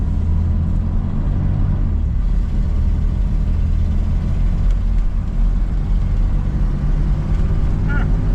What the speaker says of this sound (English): Just a quick test drive, see how it handles, see how it shifts.